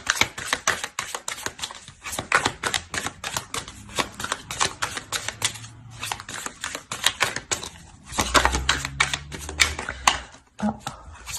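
Tarot cards being shuffled and laid out, giving quick, close riffling and crisp snapping flicks in a dense uneven run, with a voice talking softly beneath at times.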